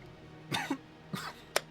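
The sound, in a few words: cough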